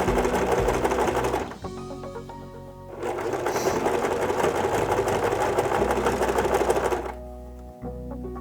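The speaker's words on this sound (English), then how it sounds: "The zigzag stitch seems to be doing quite nicely." A sewing machine running a zigzag stitch on fabric for a doll, a fast mechanical whirring clatter, close and loud, in two long bursts separated by a brief pause.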